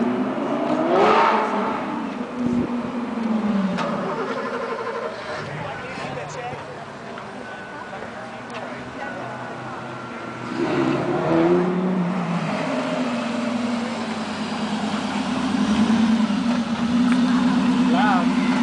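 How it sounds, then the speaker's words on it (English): A Lamborghini Gallardo SE fitted with a Tubi exhaust revs and pulls up at a Cars and Coffee meet in San Antonio, its engine note rising and falling in bursts amid crowd chatter, with people talking throughout. "we're going to see the Lambo pull up"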